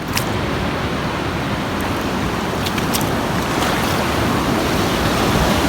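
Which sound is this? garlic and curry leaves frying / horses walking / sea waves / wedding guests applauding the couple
sea waves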